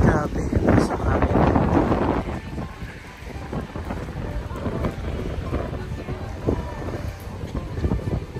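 Strong wind buffets the microphone in a coastal beach area in Busan, South Korea, a loud continuous rumble that swells and eases throughout, with faint voices mixed in.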